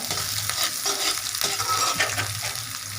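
Watermelon rind poriyal sautéing and being stirred in a pan, a steady loud sizzle with scraping stir strokes running throughout, close up and without talking.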